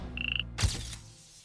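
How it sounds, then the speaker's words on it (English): A frog's rapid, pulsing croak repeats close by, followed by a brief splashy thump and a high trill fading out. "A group of singing male frogs can be very loud"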